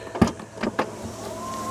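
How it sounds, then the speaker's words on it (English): Electric tailgate of a Porsche Cayenne Turbo E-Hybrid opening, a couple of sharp latch clicks followed by a low, steady motor whine as the gate lifts, close by. "It has an electric gate opening"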